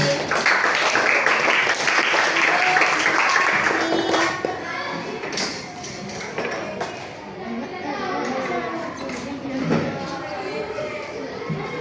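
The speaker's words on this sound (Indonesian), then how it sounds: "Tepuk tangan untuk Feli." Children in a classroom clap together in a dense burst of applause for a classmate, which thins into scattered taps under overlapping chatter and children's voices.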